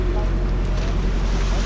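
A wooden fishing boat motors across the open sea, a steady low engine drone mixed with wind and water rush, close and continuous throughout.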